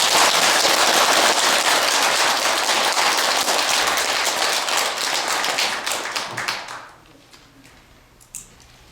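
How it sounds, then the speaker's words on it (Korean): Dense audience applause at a Buddhist dharma talk, loud and sustained for several seconds before tapering off abruptly into quiet, with a lone clap near the end. "박수를 한번 쳐주세요."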